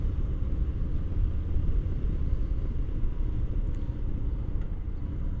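A Harley-Davidson Low Rider S motorcycle engine rumbles steadily while riding, a deep, continuous low throb with wind noise, even in level and without talking.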